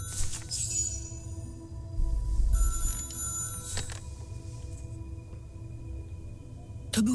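A telephone rings in the video game Syberia The World Before, with a bell-like tone at moderate level over a low background hum and a brief voice near the end.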